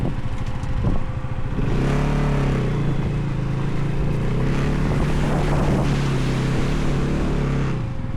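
A motorcycle rides through a water crossing on a rough mountain road in the Koksar to Spiti Valley region, with a steady close engine drone and rushing splash noise continuing throughout.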